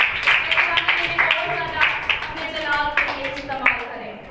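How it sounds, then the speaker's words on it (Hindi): Enthusiastic applause from a church congregation greeting their pastor during a Sukkot Feast of Tabernacles service: dense clapping at moderate distance, with voices mixed in. "पास्टर साहब के लिए जोरदार तालियां बजा दी गई"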